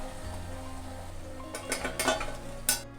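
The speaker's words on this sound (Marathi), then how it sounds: "याचप्रमाणे मी बाकीचे पीसही तळून घेते" Pieces of a sabudana fasting snack fry in hot oil with a steady low sizzle, while a utensil stirs and lightly clinks against the pan now and then.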